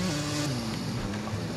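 A Phoenix 450 motocross bike engine in MX vs ATV Legends drones steadily at close range, a continuous buzzing whine with a shifting pitch and no voices over it.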